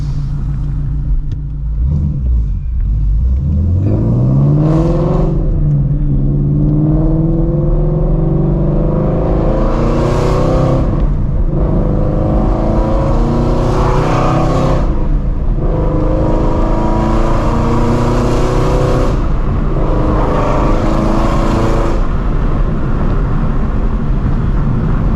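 Dodge car engine revving hard and downshifting, with loud rising and falling revs, sharp blips between gear changes and a steady deep rumble, close by and with no talk.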